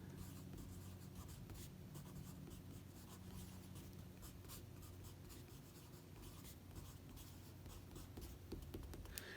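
Pencil drawing basic forms such as prisms and cylinders on paper by hand, a steady close scratching and scraping of graphite strokes running continuously without pause, with no voices.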